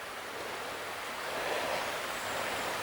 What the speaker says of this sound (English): there's one last look at the river